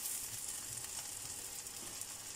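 Coriander seeds sizzle in a hot pan while being stirred, a faint steady crackling hiss with soft scraping underneath, no voices.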